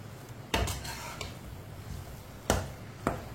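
Suji halwa with washed raisins being stirred in a pan, a spoon knocking against the metal in a few sharp clanks and scrapes, close and otherwise quiet with no talk.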